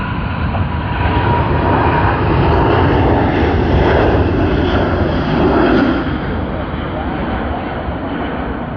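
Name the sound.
China Eastern Airbus A350 jet departing to Shanghai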